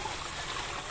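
Creek water that runs down from the mountain flows steadily and close by, a continuous even wash and trickle with no breaks and no voices.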